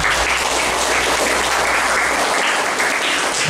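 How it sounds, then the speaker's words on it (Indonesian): Steady, dense applause from a scout jamboree crowd at a national-awareness gathering, loud and continuous throughout with no talking. "Tepuk tangan untuk kita semua."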